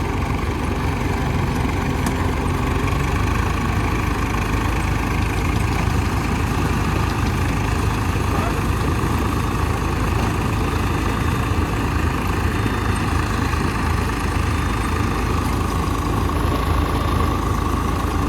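A tractor engine drones steadily and loudly throughout, a continuous low rumble with no pauses and no voices.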